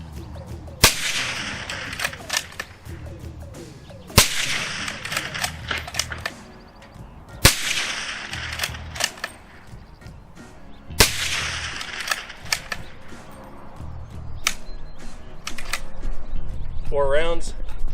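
A .30-caliber rifle fired outdoors through a Dead Air Sandman Ti titanium suppressor gives four sharp, evenly spaced muffled reports, each followed by a brief echoing tail, with ambient noise between shots.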